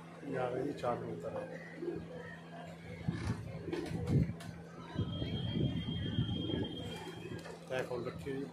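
Pigeons coo softly and intermittently in the background while someone talks over them almost continuously, with faint ambient hum underneath.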